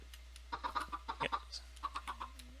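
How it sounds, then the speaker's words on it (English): Little baby chicks in Minecraft give a scattering of soft, high clucks and peeps, faint and spaced irregularly over a quiet background. "The chicken, the little baby chicks are still here."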